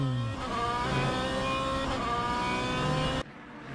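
ASRC T5 Series race car at the Moscow circuit, driven hard at the limit, with a loud continuous engine drone and harmonic whine that holds steady with small pitch shifts, then cuts to quieter background near the end.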